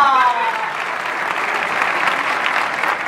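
Audience applause in a comedy theater during a stand-up show: a dense, continuous clapping from a large crowd that runs steadily throughout, with a voice briefly over the start.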